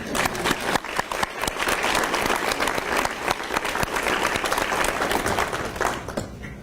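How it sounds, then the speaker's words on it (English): Sustained applause from a room full of people, a dense steady clatter of clapping lasting several seconds with no break. "Give everybody a round of applause in the room."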